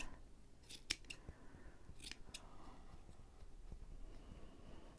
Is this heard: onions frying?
no